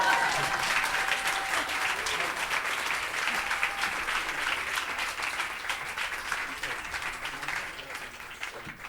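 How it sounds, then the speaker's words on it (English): Steady audience applause after a music performance, a dense wash of clapping that continues for about nine seconds and gradually tapers, with faint voices mixed in. "I think some applause is appropriate."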